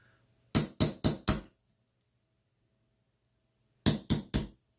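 A hammer strikes a punch to drive out the cotter pin on a stainless dive watch bracelet: four quick sharp taps, a pause, then three more, crisp and close in an otherwise quiet room.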